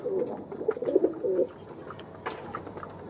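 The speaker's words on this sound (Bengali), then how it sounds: "এটা আমার কালদমা জেনারেশনের পায়রা" Kaldoma-generation domestic pigeons coo in low, throaty bursts over the first second and a half, followed by faint scattered clicks and rustles in a quiet room.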